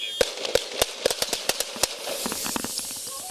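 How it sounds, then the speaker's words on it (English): Rapid volley of sharp gunshots fired by Denver police officers during an armed encounter, about a dozen loud cracks in quick, uneven succession close to the microphone, followed by a noisy aftermath. "Shots fired, shots fired."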